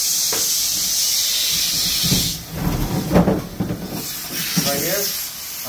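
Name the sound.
HVAC blower wheel spinning while being sprayed clean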